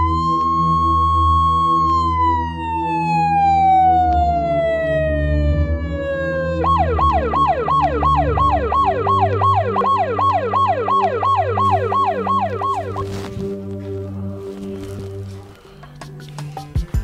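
Ambulance siren wails loudly and close: a long falling tone first, then a rapid repeating yelp pattern that cycles steadily before cutting off, with no talk over it.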